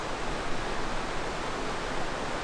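Water flowing steadily through a canyon near Puente de Dios in Galeana, Nuevo León, a continuous broad rushing wash with no breaks, fairly loud and close, with no voices.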